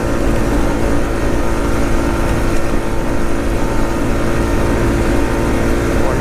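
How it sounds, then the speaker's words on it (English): A 2020 Honda Rancher 4x4 ATV runs flat out in fourth and fifth gear at top speed, making a loud, steady, close engine drone mixed with rushing wind noise throughout, with no talking. "Gotta test out the top speed. 4th gear, 5th gear."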